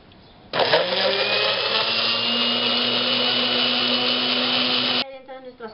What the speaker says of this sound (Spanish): Entonces todo esto lo vamos a moler.